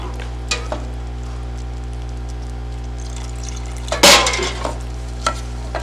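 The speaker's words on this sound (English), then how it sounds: "Add a little stock." Stock is poured into a sauce in a hot pan, setting off a sudden sharp sizzle and bubbling burst, followed by a few stirring clinks over a steady background hum.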